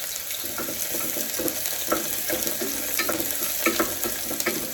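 Two chopped onions frying in a pan, a steady broadband sizzle with soft stirring scrapes scattered through it, continuous and close with no talk.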